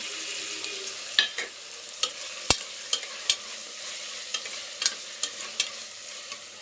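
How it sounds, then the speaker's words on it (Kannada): Tomatoes frying in a pan with coriander and mint leaves: a steady, soft sizzle runs throughout while a spoon taps and scrapes the pan in regular sharp clicks, close and without any voices. "ಇದು ಅಷ್ಟೇ ಚೆನ್ನಾಗಿ ಫ್ರೈ ಆಗಬೇಕು ಫ್ರೆಂಡ್."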